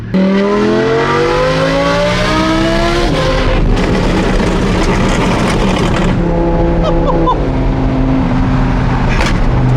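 A loud, close Audi R8 with a flame-tune exhaust revs and roars, its engine pitch climbing and dropping through repeated throttle blips with sharp exhaust crackle.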